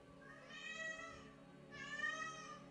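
A domestic cat named Alcachofo, newly adapting to a home, gives two clear rising-and-falling meows in a row, fairly faint and heard indoors with no talking.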